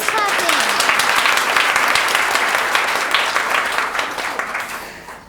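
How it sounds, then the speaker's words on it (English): A school musical audience breaks into applause, a dense, continuous burst of many hands right after a brief sung or spoken voice at the start, slowly tapering toward the end. "I said audiences clapping."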